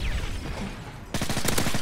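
Automatic gunfire in Call of Duty Modern Warfare 3 multiplayer: a dense, rapid burst starts abruptly about midway and continues loud to the end, following a stretch of rumbling game noise.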